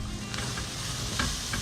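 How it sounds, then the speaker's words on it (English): Ginger and garlic sizzle steadily in a hot frying pan, a close, continuous crackling hiss with a few soft spatula stirs and scrapes. "ginger and garlic, and you really want to hear it sizzling"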